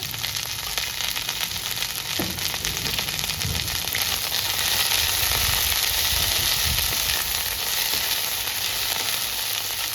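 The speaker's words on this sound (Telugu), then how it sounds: "ఉల్లిపాయలో తగినంత ఆయిల్ వేసుకొని ఫ్రై చేసుకోవాలి మంచిగా" Onions fry in oil for a Telugu okra chutney, giving a constant close sizzle and hiss, with soft stirring thuds partway through and no talk.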